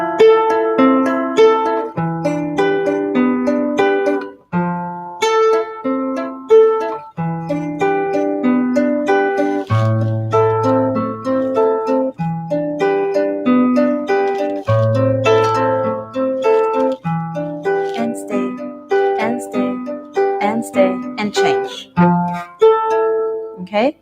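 Acoustic guitar plays a medicine song, steady strummed chords and plucked notes continuing for the full stretch with brief pauses, clear and close with no voice.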